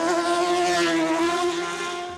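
The Mazda 787B race car's 2.6-litre naturally aspirated four-rotor rotary engine screams at high revs, a loud, sustained, buzzy, harmonic-rich wail held steady before easing slightly at the end.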